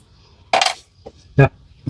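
Two house keys jingling and clinking together in short metallic bursts, close and fairly loud, with brief gaps between them.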